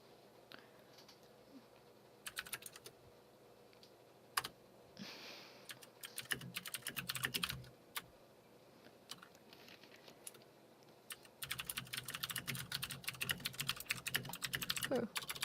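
Bursts of clicky typing on a mechanical keyboard with Cherry MX Blue switches, close but quiet, coming in irregular flurries with pauses between and faint voices now and then.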